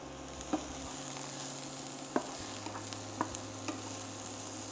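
Thyme and other ingredients sautéing in a pan give a steady, soft sizzle with a few stirring scrapes and light knocks spread through, fairly close and with no talk.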